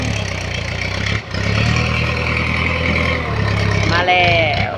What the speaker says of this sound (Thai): ทางล้างนี่ก็เสียงดังแน่กับรถไถนะคะ